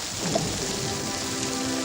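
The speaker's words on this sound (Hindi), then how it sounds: "बारिश में चलने का मजा कुछ और ही होता है।" Steady rain falling outdoors, an even hiss of drops spattering on surfaces, moderately loud and continuous with no voices.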